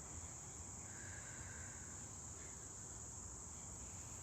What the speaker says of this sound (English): amongst the crickets and the frogs and everybody else we're hearing out here